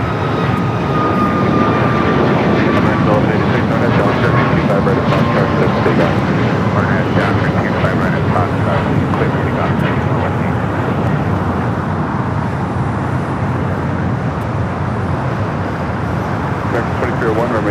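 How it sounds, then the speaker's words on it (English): Delta airliner landing on runway 25 left at LAX, a loud continuous engine roar close by and steady throughout, with people talking over it. "Delta 2110, LA Tower, runway 25 left, clear to land."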